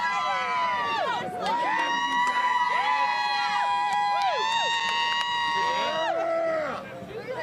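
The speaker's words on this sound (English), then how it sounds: "A little small section of the louder than life crowd there. They're pretty loud." A rowdy, drunken festival crowd at Louder Than Life 2016 whoops and yells in long rising and falling shouts, loud and close, with cheering voices overlapping throughout.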